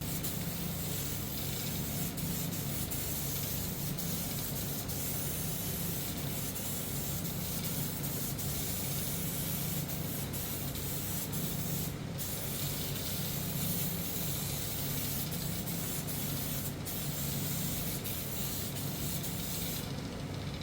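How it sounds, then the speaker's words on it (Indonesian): An aerosol spray can lays a thin, even clear coat onto a motorcycle CVT cover, producing a continuous close hiss with brief pauses between passes. "Untuk penyemprotan clear ini kita semprot tipis terlebih dahulu"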